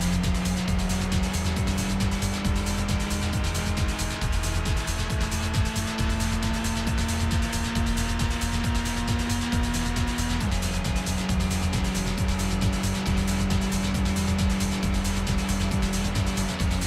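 A race car in the Gran Turismo racing game drifts through a hairpin, its engine holding a steady high drone with a sustained tire squeal, then shifting pitch midway; loud and continuous, no voices.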